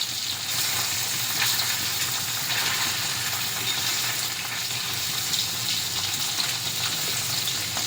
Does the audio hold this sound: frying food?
yes